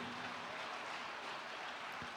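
Applause from a church congregation during a worship service, a steady dense patter of many hands clapping at moderate level with no voices standing out.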